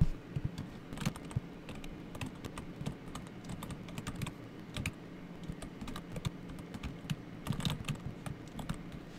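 Continuous typing on a computer keyboard during a Windows software install, with quick irregular key clicks and occasional louder taps over a soft room hum, close by and steady for the whole stretch.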